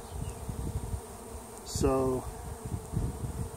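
Honey bees buzz in a short, loud burst close by during a hive inspection, a steady droning hum rising over low background noise before fading again; a voice speaks briefly.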